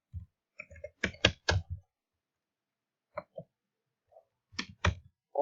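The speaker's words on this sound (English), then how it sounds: "I'm gonna type in liar and a gold digger" Short bursts of keyboard typing clatter up close in a few quick clusters, separated by pauses, with no talking.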